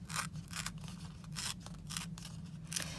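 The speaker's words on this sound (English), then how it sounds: "So I just start on one end and just kind of slowly tear so that I can create, kind of this worn look along the bottom of this cardstock piece." Cardstock is torn slowly by hand to give a worn edge, a series of dry, ripping bursts with short pauses between them over a steady low hum, close and fairly quiet.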